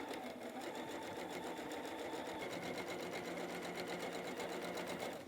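A sewing machine joins bucket hat pieces in one continuous, even run. The motor hum and rapid needle rhythm stay faint and steady from start to finish, with no talking.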